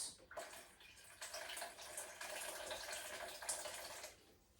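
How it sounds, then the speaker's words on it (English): Cooler water poured steadily into a pot while making chicken stock for a pressure-canned beef stew, a continuous close splashing rush lasting several seconds before stopping. "Just put a little bit of cooler water in there."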